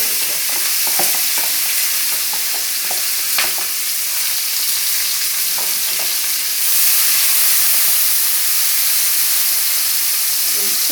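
Onion, sweet pepper and tomato fry in oil in a pot, giving a steady, close sizzle with scattered clicks and scrapes from stirring; the hiss grows slightly louder partway through.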